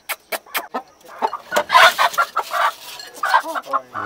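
A rooster clucks in short bursts close by in a backyard flock kept with hens and ducks, sharp rapid calls rising in loudness midway, with other fowl chattering around it.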